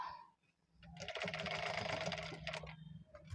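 A sewing machine runs in one sustained burst of stitching as piping is sewn onto a ready-made blouse, the motor whirring steadily at close range before slowing and stopping near the end.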